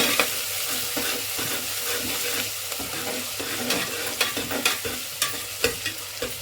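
Whole spices and mace frying for chicken biryani, a steady close sizzle with a run of rhythmic spatula scrapes and taps as they are stirred, growing busier toward the end.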